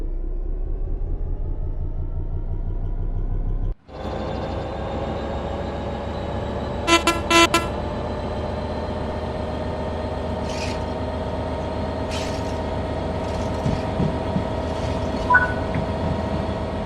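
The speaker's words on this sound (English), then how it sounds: "Apply some throttle to get the train moving." A diesel train in the Train Sim World 3 video game pulls away under throttle. A steady low engine drone shifts abruptly about a quarter of the way in, then continues with several short, sharp horn toots and squeals, with no talking.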